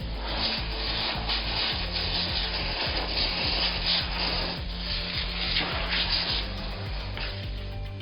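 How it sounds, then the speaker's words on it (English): A brass brush scrubs aluminum with a steady, close rasping rub, rapid back-and-forth strokes carrying on evenly throughout with no one talking. "you can use the brass brush because this is aluminum."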